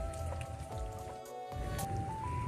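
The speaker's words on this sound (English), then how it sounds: "Because it is raining out here" Rain pattering on a surface, a dense, even patter that continues throughout with no voices.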